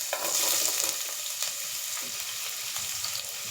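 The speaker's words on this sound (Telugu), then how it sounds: "మనం దీంట్లో ఆనియన్స్ వేస్తున్నాను." Onions hiss loudly as they hit hot oil in a pan for a spinach chicken curry, a dense close sizzle with a few stirring scrapes, no talk.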